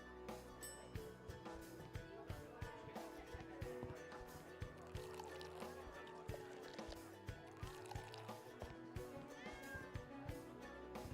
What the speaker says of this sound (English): it's quite sanitary to have a cat in your tavern and petting it while you're working